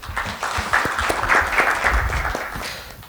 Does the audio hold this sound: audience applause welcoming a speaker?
yes